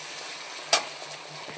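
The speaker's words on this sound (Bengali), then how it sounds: "এবার টমেটোটাকে দিয়ে দেবো এর ভিতরে, দিয়ে সুন্দর করে আমি মশলাটাকে একটু কষিয়ে নেব ভালো করে।" Spices and tomato sizzle gently in a pan for a moment, a soft steady frying hiss broken by one brief clink or stir near the middle, with no voices.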